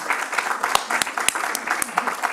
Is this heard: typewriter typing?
no